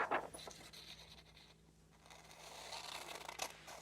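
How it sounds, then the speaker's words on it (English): Scissors snipping through paper squares in a kindergarten-to-second-grade collage activity, heard as soft close scraping and cutting strokes, quiet and unhurried, with no talking. "we can use our scissors to cut them out"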